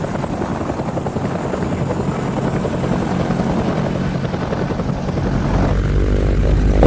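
A Huey military helicopter flies by, its rotor chop and engine drone loud and steady throughout, swelling slightly louder toward the end with no talking.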